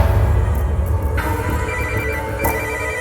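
A telephone rings with repeated electronic trill bursts in an office, clear and fairly close, with no talk over it.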